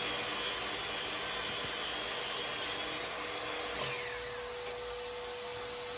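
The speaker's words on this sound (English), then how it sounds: "Now you notice I've got my dust extractor hooked up there." A dust extractor hooked up in a scrap-wood woodworking shop runs steadily, a loud continuous broadband whoosh and hum that fills the whole stretch without pauses, with no talk.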